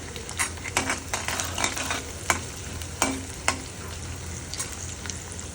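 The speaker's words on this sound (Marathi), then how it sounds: "कढीपत्ताही तळून घ्या चांगल्या प्रकारे." Curry leaves frying in oil in a pan, giving a steady close sizzle with scattered sharp crackles and the occasional clink of a spoon stirring.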